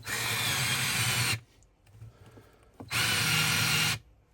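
A LIDL cordless screwdriver whirs at full power driving a large screw into wood with no pilot hole, two loud close motor bursts separated by a quiet pause with faint handling noises.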